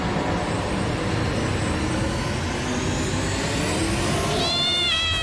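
After several seconds of broad rumbling noise, a cat cries out once near the end with a short, wavering, plaintive meow. Nobody speaks.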